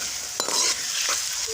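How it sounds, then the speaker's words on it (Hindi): Garlic ginger paste drops into onions frying in a pan, bringing a bright hiss of sizzling with a couple of soft stirring scrapes, close and steady. "अब मैंने ये इसमें 2 चम्मच लहसुन अदरक के रखे हैं, ये अब डाल रही हूँ।"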